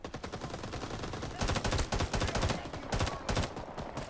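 Heavy automatic gunfire in the Vietnam War shooter Rising Storm 2: Vietnam, with dense rattling bursts that grow louder midway, close and continuous with short gaps between volleys.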